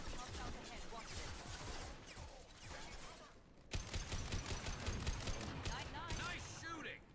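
Quiet sustained sci-fi gunfire from the Mass Effect 2 video game rattles through a busy battle mix, with a brief lull before heavier shooting resumes, partly under spoken dialogue.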